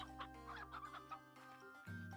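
Chickens in a farming video game cluck softly in a steady stream of short, overlapping calls, faint and low in level over a constant background hum.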